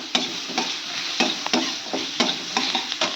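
Bay leaves, whole dried red chillies and onion frying in a pan, sizzling steadily while a spoon stirs and scrapes in repeated sharp strokes about every half second, close and fairly loud.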